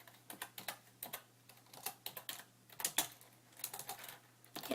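Fingers tap on a computer keyboard in uneven bursts of close, crisp clicks with short pauses between runs of keystrokes.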